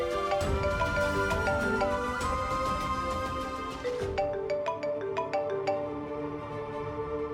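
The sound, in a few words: telephone ringing for an incoming call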